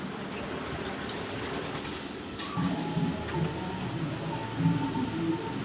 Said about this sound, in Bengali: দেখো, এক নাগাড়ে একেবারে বৃষ্টি হয়েছিল সেই সব আর কি ভিডিও ক্লিপ।